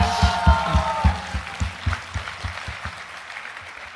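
Audience applauding award recipients at a motivational event. Distinct claps ring out in a fairly close, rhythmic pattern, loud at first and thinning out toward the end. A brief crowd swell sits under them.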